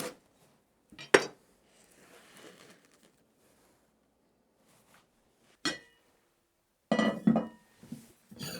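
Spoons clinking against dishes in a kitchen, a few sharp isolated clinks and clatters separated by near silence, with a short burst of rattling near the end.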